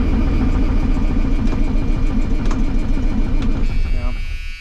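A cold cabover truck engine cranks and chugs continuously without catching, a loud, rhythmic low churning that slows and fades near the end, with voices talking over it.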